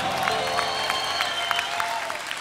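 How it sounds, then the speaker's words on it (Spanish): Applause from a concert audience for a Colombian orchestra in Medellín, a steady dense wash of clapping with a few cheers, sustained and fairly loud throughout while a held musical tone lingers underneath. "yo quiero pedir un fuerte aplauso para estos grandes músicos de acá de Colombia"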